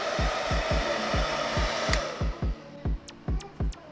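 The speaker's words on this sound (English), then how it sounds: "you're gonna need a hairdryer to heat up the glue on the badges" A hairdryer blows on the trunk badges of a Subaru BRZ to heat their glue, a steady close airy whir laced with repeated rhythmic thumps, then switched on and off in short bursts toward the end.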